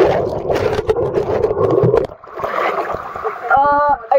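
Water churns and splashes close by as a swimmer tumbles through an underwater somersault in a pool, the dense sloshing easing halfway through before a burst of bubbly gurgling near the end.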